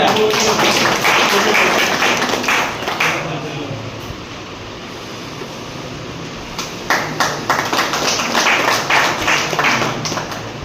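Audience applause at a district marketing management gathering in Baliadanga Ansaripara, Malda, honouring Gokul Mondal: dense clapping that swells, thins out in the middle, then rises again, with scattered crowd voices underneath.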